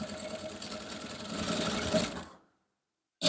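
A sewing machine stitching a male short runs in a fast, steady whirring chatter for about two seconds, then stops abruptly into silence.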